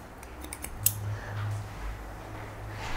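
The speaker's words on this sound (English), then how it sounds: "Now through this back bit, I'm going to cut it vertically." Scissors cutting hair vertically through the back section during a medium-length haircut on thin hair, a few quiet close snips clustered early over a soft background hum.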